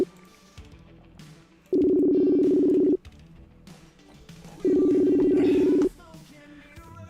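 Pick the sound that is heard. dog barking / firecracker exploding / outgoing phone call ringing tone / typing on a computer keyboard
outgoing phone call ringing tone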